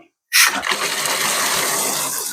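A just-repaired household water tap is opened, and water bursts out hard and loud after a moment of silence. The strong, steady gushing rush continues to the end with no talking.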